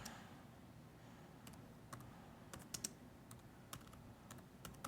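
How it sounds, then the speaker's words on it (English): Irregular bursts of typing on a computer keyboard, quiet clicking keystrokes in small clusters over a low background hiss, with no speech. "I hate that my typing gets picked up."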